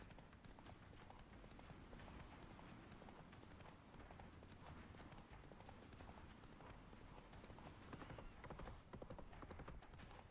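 Horse hooves clip-clopping in a steady galloping rhythm from Roach in The Witcher 3, faint and continuous under a dense wash of ambient game noise.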